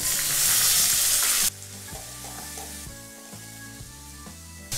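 Chopped tomatoes, tamarind and chillies sauté in a pan for a mint-coriander chutney, giving a loud, steady sizzle that drops to a softer crackle with intermittent stirring scrapes; no talking.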